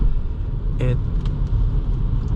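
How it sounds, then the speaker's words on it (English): Steady low tire rumble fills the cabin of a 2024 Audi A3 Komfort 40 TFSI while driving, loud and continuous, with one brief sharp tick partway through. "when it comes to the road noise coming from these tires"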